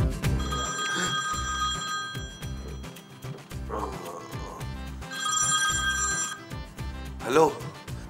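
A landline telephone bell rings in bursts, with repeated trilling rings between pauses, heard in a domestic comedy scene from the Pakistani sitcom Bulbulay with background music and a little talk around it.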